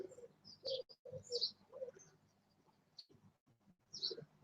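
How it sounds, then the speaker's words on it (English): Birds calling outdoors in the morning, a mix of soft dove-like coos and brief high chirps in scattered bursts, fairly faint and distant, with no talking. "With all the annoying birds all yelling at me."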